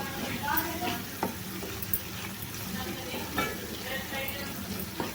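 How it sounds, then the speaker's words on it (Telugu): Mushroom masala gravy being stirred in a hot pan: continuous sizzling with occasional sharp clinks of a spoon against the pan, close up and without clear speech. "అన్నీ వేసుకొని ఒకసారి బాగా కలిపేసుకోవాలి"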